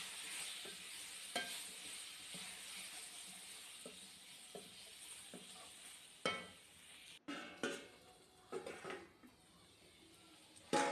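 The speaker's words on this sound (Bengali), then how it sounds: "দেখুন আলুটা কিন্তু আমার এখন ভালোভাবে ভাজা হয়ে গেছে।" Potatoes fry in oil in a wok, a soft continuous sizzle broken by periodic scraping strokes of a spatula that grow louder and busier toward the end.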